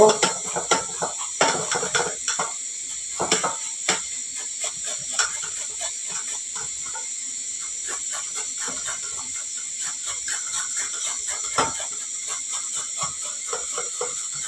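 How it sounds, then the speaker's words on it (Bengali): Green papaya is rubbed against a hand grater in quick repeated scraping strokes, loud at first and then settling into a lighter steady rhythm, with a constant high whine in the background. "আমি এইভাবে গ্রেটারের সাহায্যে পেঁপেগুলোকে গ্রেট করে নেব"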